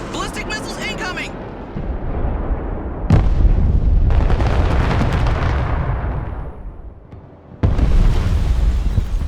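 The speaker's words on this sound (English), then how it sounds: "Ballistic missiles incoming!" Heavy ballistic missile explosions in the war video game Broken Arrow, loud booming blasts and rumbling fire that swell and break out again several times, with a voice talking over the first stretch.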